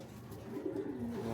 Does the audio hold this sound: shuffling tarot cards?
no